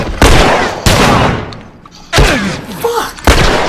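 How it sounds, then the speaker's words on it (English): Loud gunshots in The Last of Us ring out in four sharp blasts spaced about a second apart, each one a close, broadband crack with a short tail, with a brief quieter gap and some faint game sounds between them. "Who is shooting me?"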